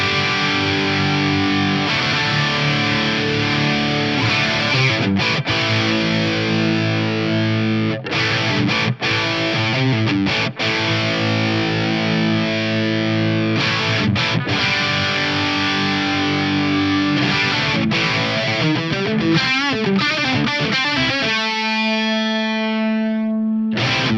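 Electric guitar running through a BOSS CE-20 Chorus Ensemble pedal in standard mode with the mix near 50%, playing sustained distorted chords and notes with a shimmering chorus wash, loud and continuous, ending on a ringing held chord.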